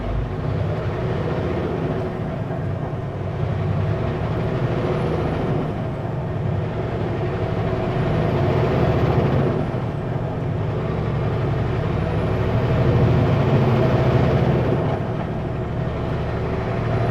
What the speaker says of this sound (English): Okay, I'm going to give her full throttle and see if I feel a slip anywhere.